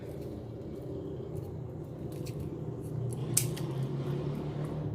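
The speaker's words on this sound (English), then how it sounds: "So I'm going to cut off these little stems." Scissors snipping the small stems off Dollar Tree decorations for a Thanksgiving table, with faint crisp clicks and one brighter snip over a low steady background hum, close by and without talking.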